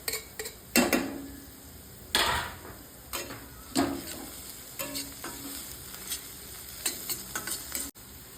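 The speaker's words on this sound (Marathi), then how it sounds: "जिरी मोहरी आता छान तडतडली आहे। कांदा आणि मिरची घालून घेऊयात।" Onion and chili stirred into a sizzling mustard seed and cumin tempering in a pan, with soft frying crackle beneath repeated scrapes and clinks of a spoon against the pan.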